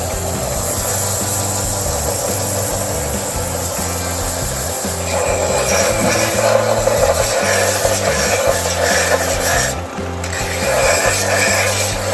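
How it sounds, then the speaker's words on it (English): Rough, steady rasping of 120-grit sandpaper worked by hand over a small wooden napkin holder, continuous back-and-forth strokes close by, with a low tonal hum underneath. "now we're going to go ahead and start the sanding process of hand sanding"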